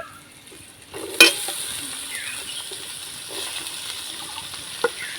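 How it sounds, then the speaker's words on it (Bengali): Green chillies and ginger fry gently in a pan for a vegetable stuffing: a faint, quiet sizzle with light stirring, a sharp clink near the start and a soft tap near the end. "হালকা নাড়াচাড়া করে কাঁচা লঙ্কা আর আদাটা ভেজে নেব"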